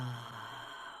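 A single deep, slow inhale through the mouth during a voice-focused breathing exercise, close and soft, drawn out for about a second before tapering off.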